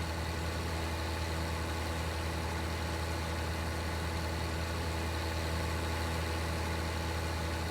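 Tractor engine in Farming Simulator 19 pulling a 400-horsepower cultivator across a field, a steady low drone that hums on continuously at an even level with no talking.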